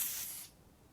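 Gas hissing briefly as a butane lighter is refilled from a canister, a faint airy spray that fades out within half a second with nothing else audible.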